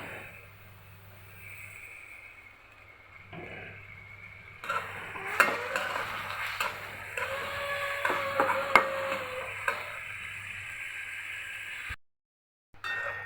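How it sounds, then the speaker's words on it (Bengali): Chopped onion and green chillies fry in soybean oil in a pan, a soft steady sizzle with occasional louder stirring scrapes, a quiet hiss that fades out near the end. "পেঁয়াজটা আমি মোটামুটি ভেজে নিচ্ছি"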